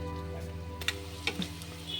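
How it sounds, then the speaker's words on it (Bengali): Onions frying in a pan while dal makhani is prepared, a soft steady sizzle with a few sharper crackles and pops, fairly quiet and without any talking. "এদিকে যে পেঁয়াজ ভাজা হচ্ছিল সেটা ভাজা হয়ে গেছে"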